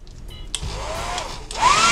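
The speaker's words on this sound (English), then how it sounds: "and then, of course, you do have your hair dryer." A hair dryer in a Carnival Glory cruise ship cabin starts up, whirring in rising pitch, then switches to high speed with a louder, brighter rush of air near the end.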